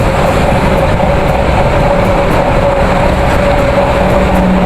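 A light rail train rumbles loud and steady overhead on an elevated line above Rizal Avenue, heard from the street below with a continuous roar and faint rhythmic clacking.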